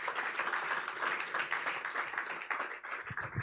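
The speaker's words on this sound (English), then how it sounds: "a round of applause for Pastor" Conference audience at the Make In Nigeria event applauding, a dense, sustained wash of clapping from a crowd with no break.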